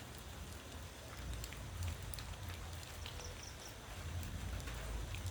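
Steady rain falls through the night outdoors, a dense continuous patter with low rumbling undertones and occasional sharper drops, moderately loud and unbroken, with no voices.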